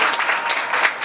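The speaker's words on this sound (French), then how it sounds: "Merci d'applaudir" Audience applause at the grand final of an ambassador competition, a dense, steady wash of many hands clapping loudly throughout with no talk.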